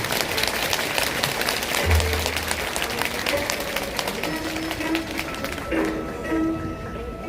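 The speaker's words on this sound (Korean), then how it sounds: "큰 박수로 여러분 격려해 주시기 바랍니다." A large crowd applauds at a Buddha's Birthday ceremony at Jogyesa temple, a sustained, loud wash of clapping from many hands that thins slightly toward the end.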